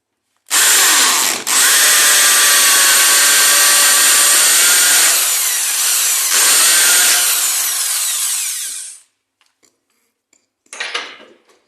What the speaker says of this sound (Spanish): podemos colocar el martillo para que pueda percutir mejor y se haga mejor el agujero